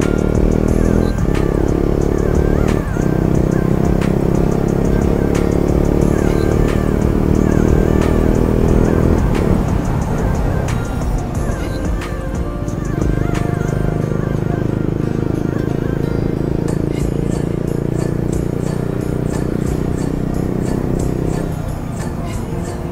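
A KTM Duke 250 motorcycle rides through city traffic in Kathmandu. Its engine makes a loud, steady drone with a low rumble, and the sound stays continuous the whole time.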